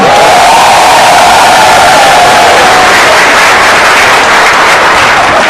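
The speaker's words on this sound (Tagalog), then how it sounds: "Palakpak naman kayo dyan." A large seminar crowd claps and cheers, a loud, dense roar of applause mixed with shouts and whoops that stays continuous and saturated throughout.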